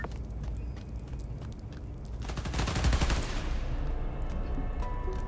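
Rapid bursts of gunfire rattle through a city scene in the game Spider-Man: Miles Morales, a dense fusillade swelling louder in the middle and then settling into a continuous rumbling wash.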